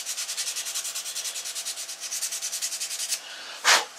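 Wood is sanded by hand while being contoured: rapid, even back-and-forth rasping strokes, about five per second, close and clear, followed by a short pause and one sharp scrape.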